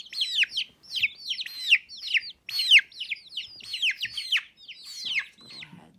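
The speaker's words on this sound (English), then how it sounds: "Hens and roosters." Hens and roosters clucking and peeping in a series of quick, high, chirpy calls that come close together, near and fairly loud, with no other sound behind them.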